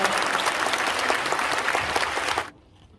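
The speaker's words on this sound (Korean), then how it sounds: "부활하신 주님께 영광의 박수를 올려드리겠습니다" A congregation at an Easter service applauds in a dense, loud burst of clapping that stops abruptly near the end, leaving quiet room tone.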